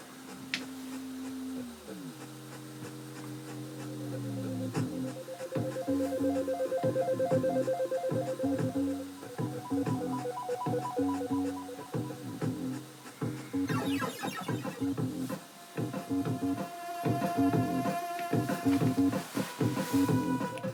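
Commodore 64 chiptune music from the Thundercats game, played through a 1541 Ultimate, with bright square-wave melodies, pulsing bass and rapid arpeggios running steadily and loud for the whole stretch.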